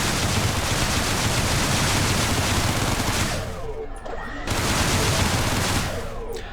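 Rapid spaceship weapons fire in the space-combat game EVERSPACE, a dense, loud burst of shots that drops out briefly around the middle, then resumes before fading.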